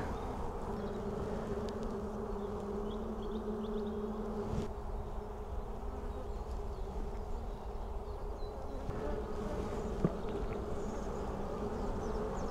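A steady, close swarm hum of honeybees fills an open hive during inspection, an unbroken buzzing drone with faint taps and no speech.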